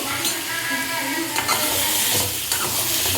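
Boiled potatoes coated in masala are stirred in a frying pan: a continuous close sizzle with repeated scraping and shuffling strokes, no voices.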